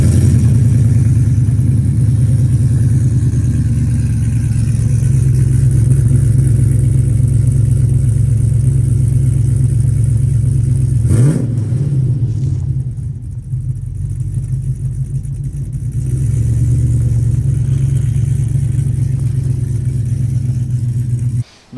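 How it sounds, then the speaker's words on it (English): A Chevrolet C10 squarebody truck with new mufflers and a 2.5-inch exhaust rumbles loudly and steadily at close range, dipping briefly midway before resuming its deep, even drone. "truck's got different mufflers and exhaust on it, so you're about to hear it"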